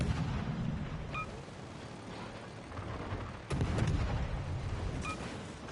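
Incoming missile explosion in the naval game World of Warships: Legends, a deep booming blast followed by rumbling, with a second heavy impact and short electronic beeps over a low battle drone.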